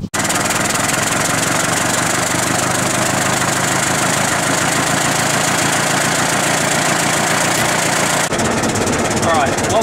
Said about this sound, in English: She's a bit of a tired engine.